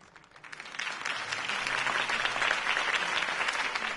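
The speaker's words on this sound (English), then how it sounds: "could have heard that applause" A crowd bursts into applause after a mayoral campaign speech, swelling quickly and staying loud and steady, a dense wash of clapping from many hands.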